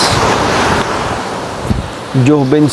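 Surf rushes steadily on a white sand beach at Cagbalete island with heavy waves and heavy wind buffeting the microphone, and a voice speaks briefly near the end.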